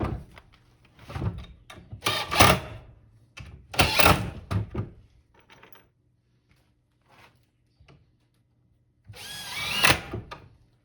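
Two loud bursts of a power drill driving screws, each lasting about a second, then a quieter stretch with faint clicks before a third whirring burst.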